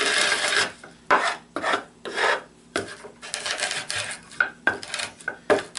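Rice being de-hulled by rubbing it back and forth between two pieces of plywood, a dry wooden rasping scrape repeated in close, steady strokes with short pauses between them.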